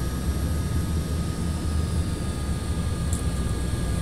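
A Quest Kodiak turboprop's engine running steadily just after start-up in the X-Plane 11 flight simulator, a continuous low droning hum at even loudness with no talk.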